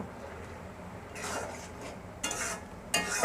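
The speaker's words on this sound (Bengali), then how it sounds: "এখন আমি ভালোভাবে নাড়া দিয়ে নেব।" A spoon stirs masoor lentil dal with a pinch of cumin powder in a pot, in three brisk scraping bursts against the metal over a quiet background.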